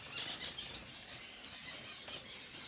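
Bengalese finch wings flapping at a bird farm, a brief soft flutter of rapid wingbeats close by, alone with no talk.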